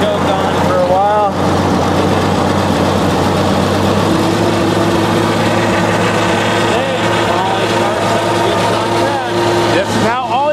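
A small engine idles and warms up with the choke on, a steady low throbbing hum with a sustained tonal whine, loud and close, while people talk over it intermittently.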